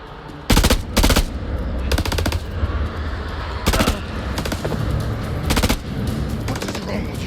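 Gunfire in the horror video game House of Ashes comes as several loud, sharp automatic bursts in quick succession over a low rumbling game background.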